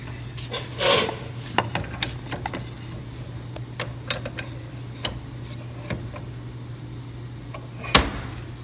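A blade scrapes glue residue off a wood surface in scattered short rasps and clicks over a steady low hum, mostly sparse and close, with one louder burst near the start and another near the end.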